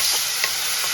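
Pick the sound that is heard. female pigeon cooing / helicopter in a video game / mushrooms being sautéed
mushrooms being sautéed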